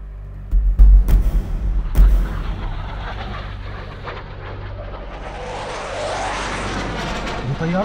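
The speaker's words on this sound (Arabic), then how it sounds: "دي طيارات حربية. دي متجهة ناحية المقاطعة." Military warplanes pass overhead, a broad rising roar of jet noise building through the second half after a couple of heavy low booms near the start, loud and close with no talk over it.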